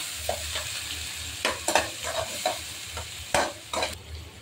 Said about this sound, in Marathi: आता आपल्याला हलवून घ्यायचं।